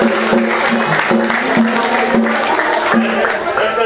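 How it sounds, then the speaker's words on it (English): An audience applauds the writer at a summer camp play, dense steady clapping mixed with crowd noise and some talking over it, loud and close throughout. "Give her a round of applause."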